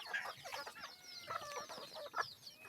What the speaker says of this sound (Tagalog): Ayun guys, so dami manok.